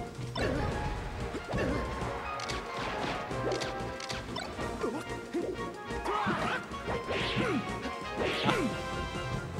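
Smash attacks land in a Super Smash Bros. Melee tournament match, a run of sharp crashing impacts and clanks scattered over a busy bed of game sound and background voices.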